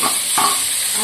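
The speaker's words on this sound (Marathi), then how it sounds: "आणि ह्या भाज्या कट केल्या त्या परतून घ्यायच्या" Chopped onion and tomato sautéing in a pan for quick semolina appe, a steady sizzle with two brief stirring scrapes near the start, close and fairly loud.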